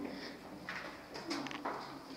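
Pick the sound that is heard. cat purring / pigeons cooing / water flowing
pigeons cooing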